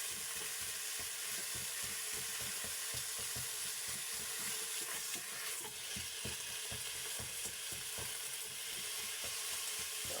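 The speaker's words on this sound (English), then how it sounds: "So you're going to cook the beef until brown, then you're adding the onions, carrots, some garlic until it's softened." Half a kilogram of beef sautéing and browning in a pot while being broken up, with a constant bright sizzle and repeated scraping, clacking strokes of a utensil in an uneven rhythm close by, with no talking.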